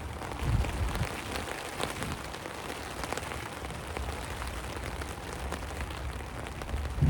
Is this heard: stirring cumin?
no